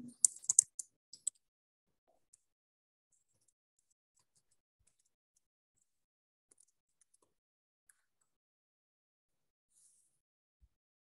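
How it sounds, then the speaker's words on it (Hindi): Typing on a computer keyboard while entering details into exam software: a quick flurry of soft key clicks at the start, then scattered faint single taps in near silence. "ये मैं टाइप कर लेता हूँ"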